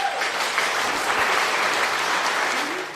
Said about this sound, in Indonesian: Beri tepuk tangan untuk Bang Deki.